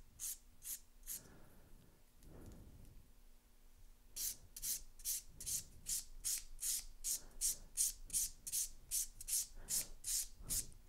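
Acrylic-gel hybrid nails are filed into an almond shape with a bevel toward the tip: close, steady rhythmic rasping strokes, a brief pause, then a faster even run of short scrapes, with no talk.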